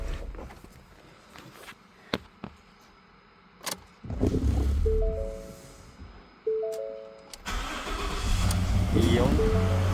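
A Ford F250 pickup with a sticking starter motor cranks in short bursts, then catches and settles into a steady close idle, with people talking nearby.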